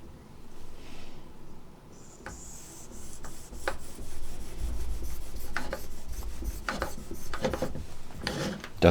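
A reed knife is honed on a fine polishing stone using wedge angle guides, giving soft, irregular scraping and rubbing strokes close up, with a few light clicks and no talk.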